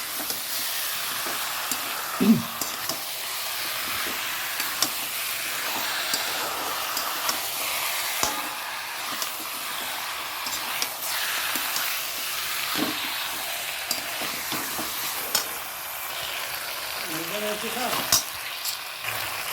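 Chicken cooks with spice masala in a pan, giving a steady hiss of frying with occasional scrapes and clinks of stirring. A voice talks over it at times.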